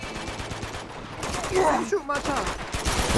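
Rapid gunfire bursts and single shots ring out in the Uncharted 2 video game, loud and close, mixed with game effects and a player's voice talking over them.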